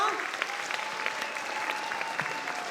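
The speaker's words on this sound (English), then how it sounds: "How about a final round of applause for these 7 exceptional young people?" An audience at an AP awards ceremony for San Leandro Unified School District students claps steadily, a dense, even patter of many hands heard from a moderate distance, with a faint tone running beneath.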